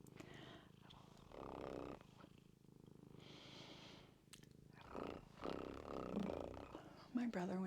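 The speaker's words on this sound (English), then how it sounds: "Can you hear how loud Sauce is purring" A cat purrs loudly and close, in rhythmic rumbling cycles of breathing in and out, with a quiet voice faintly audible in places.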